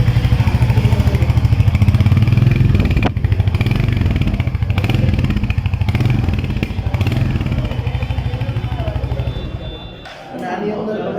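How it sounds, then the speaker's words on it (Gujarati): A Royal Enfield Hunter 350 motorcycle with the new engine idles close by, its exhaust giving a steady loud thumping beat that keeps going throughout and eases off slightly near the end. "આ એનું સાઉન્ડ છે એક્ઝોસ્ટ."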